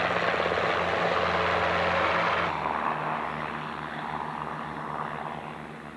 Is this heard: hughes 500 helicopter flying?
yes